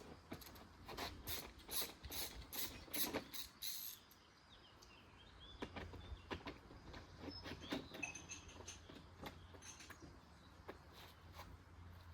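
An 8 mm ratchet wrench clicks in a rapid run of sharp strokes during restoration work on a 250cc motorcycle, then goes quieter, leaving faint scattered ticks and soft background chirps.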